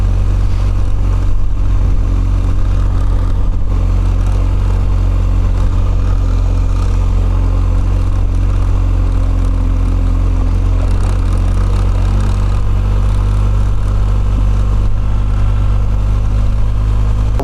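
BMW R1250GS motorcycle ridden in winter conditions, its boxer engine a steady, loud, close drone with little change in pitch, mixed with wind rush throughout.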